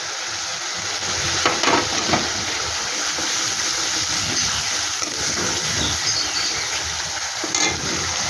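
Garlic and ginger paste frying with onion in a pan, a continuous close hiss and sizzle with occasional stirring scrapes, no voices.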